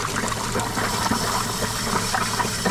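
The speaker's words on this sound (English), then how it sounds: "clean water's coming out of the top," Continuous rushing, gurgling flow of water pouring out under pressure from a mini forklift's engine block during a flush, loud and close, steady throughout.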